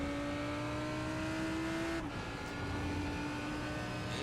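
Lamborghini race cars in a racing video game at the Hungaroring, engines droning steadily with a strong held tone that breaks off sharply midway as the note shifts, loud and continuous with no talk.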